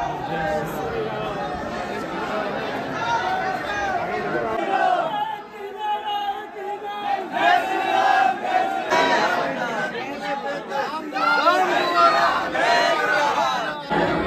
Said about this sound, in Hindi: अभी दिखाता हूँ भीड़